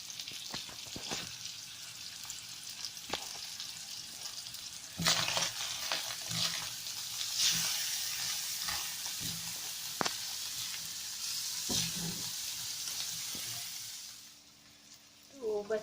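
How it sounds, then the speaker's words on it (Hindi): Cheese potato cutlets frying in oil, a constant crackling sizzle with spatula clicks and scrapes scattered through, growing livelier midway before easing off near the end, close and quiet. "और अब हम करेंगे इसको फ्राई।"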